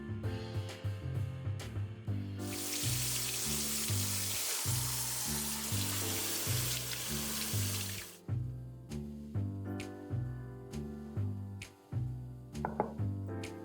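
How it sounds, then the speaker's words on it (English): Running tap water pours over soaked vegetables in a kitchen sink, a steady loud rush lasting several seconds amid intermittent splashing and rhythmic handling sounds. "let's rinse these vegetables under running water"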